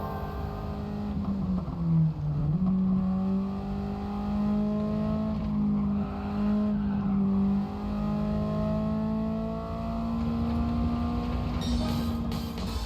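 A front-wheel-drive race car in Gran Turismo 7 holds a loud, sustained engine whine, pitch rising and dipping through shifts and corners, continuous and close without any talk.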